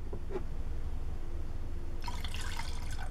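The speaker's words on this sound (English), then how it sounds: "Pour that in." Liquid cleaner, Fabuloso mixed with vinegar into a homemade glass cleaner, is poured into a bottle, giving a soft liquid gurgle and splash that swells in the last second over a steady low background hum.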